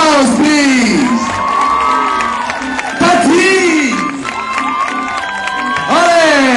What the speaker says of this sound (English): Big applause, please.